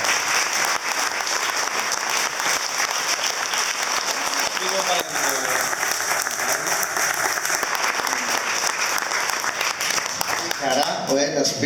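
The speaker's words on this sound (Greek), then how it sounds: "θερμό χειροκρότημα." Warm applause from a crowd at an honorary award ceremony, a loud, continuous patter of clapping throughout, with voices talking faintly underneath near the end.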